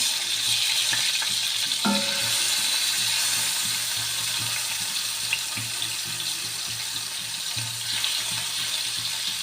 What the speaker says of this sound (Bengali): মাছগুলো ভালোভাবে এপিট ওপিট উল্টে ভেজে নিব।